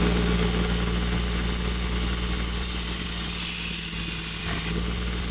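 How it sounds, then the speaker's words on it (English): Steady, loud mechanical drone of an 80 grit belt grinder running throughout, used wet to reshape the wobbly recurve profile of a knife blade, with a constant hum and no talking. "we're going to go ahead and use an 80 grit belt"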